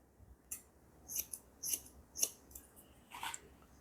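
Close, crisp scissor snips trimming hair on a wig for a short granny-style haircut, about five distinct cuts in a loose rhythm over a quiet background.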